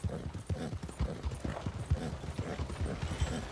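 Horse hooves clip-clop at a steady trot in Red Dead Redemption 2, a run of repeated thuds close by over a dense ambient bed, with no talking.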